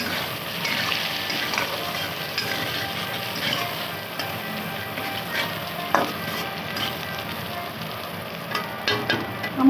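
Potatoes and onions with turmeric frying together in a pan before duck meat is added, a steady close sizzle with a few stirring clatters and no talk.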